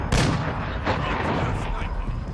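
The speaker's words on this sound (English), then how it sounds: "Mortar strike inbound." Mortar rounds strike in a military shooter game, a dense rumbling barrage of booming blasts with a sharp crack near the start, loud and close, with faint voices mixed underneath.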